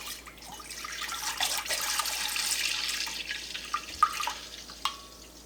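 Two gallons of raw milk poured into a cooking pot for farmhouse cheddar: a steady, moderately loud splashing stream for most of the time, tapering off into a few separate drips and splashes toward the end.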